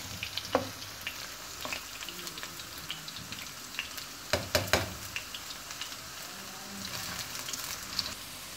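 Taro (arvi) pieces fry in oil in a pan, a soft continuous sizzle with occasional crackles and pops as they are stirred, quiet and close with no talk.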